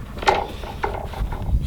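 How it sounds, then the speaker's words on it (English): A halyard bangs inside a sailboat mast, hollow metallic clanks and knocks ringing out a few times at irregular intervals, with low rumble beneath. "This is the halyard banging inside the mast"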